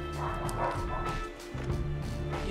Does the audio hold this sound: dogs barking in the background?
yes